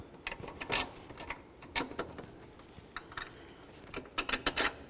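Tightening the alternator mounting bolts on a 2003-04 Chevy Silverado: a run of sharp, quick metallic clicks and ratcheting bursts, close and fairly quiet, with short pauses between groups.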